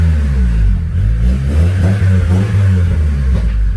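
A Honda Accord's engine revs steadily with the exhaust valve open, giving a loud, close, continuous low rumble that rises and falls slightly over a few seconds, with no voices.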